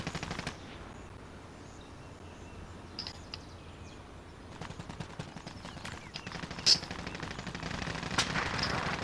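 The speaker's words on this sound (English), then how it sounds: "I can hear a lot of shooting behind us" Gunfire in the video game Warzone: bursts of automatic and single shots from around the players, fairly distant and steady at first, then growing louder and denser toward the end.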